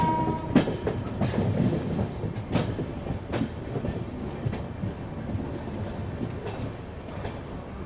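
Sealdah Rajdhani Express coaches rolling slowly into Gaya Junction, heard from aboard in a 2AC coach: a continuous rumble with rhythmic wheel clicks and sharp rail knocks, fairly close and steady throughout.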